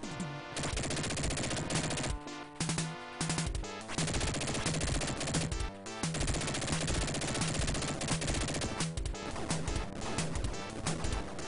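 Rapid gunfire from the Dick Tracy game on Sega Genesis, with repeated bursts of shots over a dense, loud chiptune music bed that runs the whole time and pauses only briefly.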